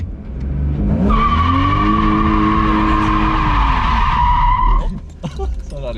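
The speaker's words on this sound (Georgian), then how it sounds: "შეგიძლია მაგ დროსაც დრიფტი ჩააგნო აბსოლუტურად" A car drifts with its tires skidding in one long, loud squeal lasting several seconds. The engine roars underneath, and the squeal cuts off into short scuffs and knocks.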